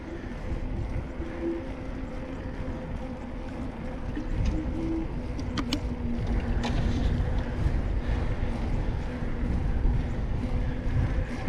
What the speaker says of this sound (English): A bit windy along this road.